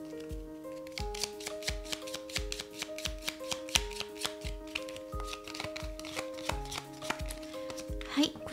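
Oracle cards being shuffled for a tarot reading, a steady run of soft papery riffles and taps repeating about once a second over gentle background music.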